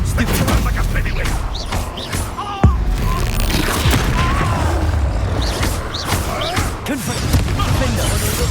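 Expulso explosion spell from Hogwarts Legacy: a heavy boom with crashing debris amid rapid combat blasts and clatter, loud and close, with a voice shouting through the fight.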